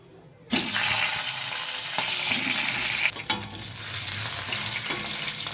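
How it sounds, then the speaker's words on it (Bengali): Hilsa fish head dropped into hot oil: after a brief hush, a loud, close sizzle bursts in and holds as a thick crackling hiss, with small pops and a brief dip partway through. "এবার আমি ইলিশ মাছের মাথাটা ভেজে নেব"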